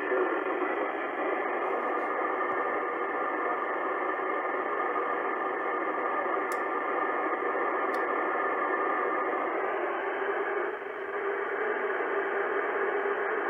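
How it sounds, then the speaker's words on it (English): Amateur radio stations come in through the AO-91 satellite as a steady band of hissing static with faint, muffled voice-like signal underneath, continuous and even throughout, with a couple of brief clicks. "And you start to hear the stations coming in."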